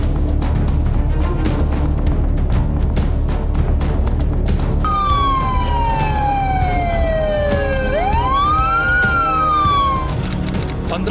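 An ambulance siren wails loud and close, starting as a rapid pulsing warble and then shifting into long rising and falling sweeps. Steady road and traffic noise runs underneath.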